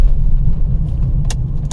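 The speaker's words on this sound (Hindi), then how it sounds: "अच्छा, ये तो ट्रक जा रहा है" A truck loaded with straw rumbles past on a narrow night road through a tiger reserve, a steady low engine drone heard from inside a vehicle, with a couple of brief faint rattles.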